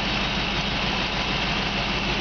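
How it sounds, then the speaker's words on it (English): A forestry bucket truck's engine idles in a smooth, steady low rumble, close and constant with no voices. "You can hear this motor just purr."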